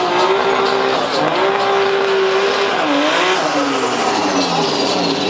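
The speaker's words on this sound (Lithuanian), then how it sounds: "Šį kartą Audi Coupe" An Audi Coupe launching down the strip at a 2012 Lithuanian drag racing championship round in Kazlų Rūda: a loud, sustained high-revving engine note that holds, dips briefly and climbs again, with a faint tire squeal and no talk.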